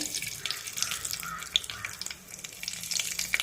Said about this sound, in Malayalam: ചൂടായ എണ്ണയിലേക്ക് കടുകും ഉലുവയും കൂടെ ഇട്ട് കൊടുക്കാം